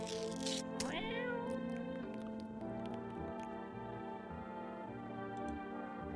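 A cat in No, I'm Not A Human gives a couple of drawn-out, rising meows near the start, then soft game music and faint ticking carry on alone.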